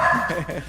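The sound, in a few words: dog barking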